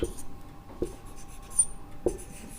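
Chalk or a marker scratches across a board in a chemistry lesson, making a few short strokes with quiet gaps between them.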